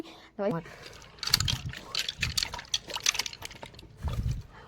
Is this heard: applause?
no